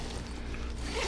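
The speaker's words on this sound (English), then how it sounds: "Because I'm zipping you in now." A tent door zipper on a quick-setup camping tent being pulled shut along its screen door, one steady continuous zip running about a second, close and fairly loud.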